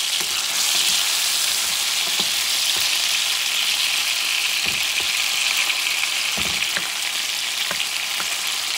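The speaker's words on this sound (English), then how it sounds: "you're going to cook it for several minutes until the tomatoes are soft" Tomatoes with plant-based hot dogs sizzle and fry steadily in a pan, a continuous close hiss with occasional stirring clicks and scrapes.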